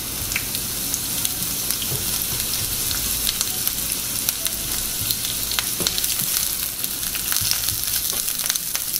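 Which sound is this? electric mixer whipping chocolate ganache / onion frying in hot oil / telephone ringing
onion frying in hot oil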